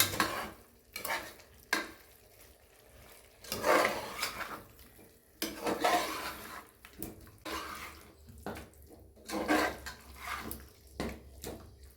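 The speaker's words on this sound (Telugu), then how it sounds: "ఇప్పుడు బాగా మిక్స్ చేసుకోవాలి" Mutton being stirred and mixed with chili powder, turmeric and ginger-garlic paste in a curry pan, giving intermittent wet scraping and sizzling bursts at a quiet, close level.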